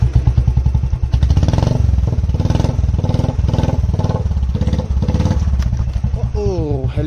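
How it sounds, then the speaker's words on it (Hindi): Motorcycle engine idling loud and close, a steady rapid thumping pulse with the silencer rattling and vibrating throughout; a voice speaks briefly near the end. "इतना वाइब्रेट मार रहा है साइलेंसर"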